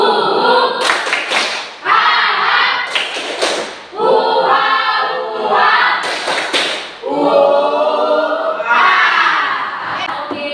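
A classroom group performs the tepuk rimba jungle clap: bursts of sharp rhythmic clapping alternate with loud chanted group voices, repeating in cycles throughout.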